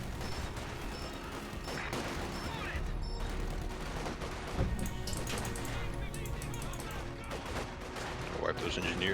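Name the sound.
machine gun fire in the video game Company of Heroes 2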